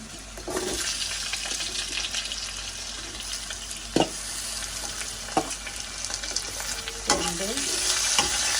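Potatoes frying in a pan of sautéed onions, giving off a steady, close sizzle with scattered knocks and scrapes of a spoon stirring, no voices over the cooking.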